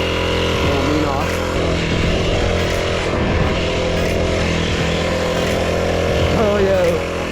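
A 39cc mini bike engine running while ridden: a loud, steady buzzing drone with wavering pitch, heard up close with wind rushing over it the whole time.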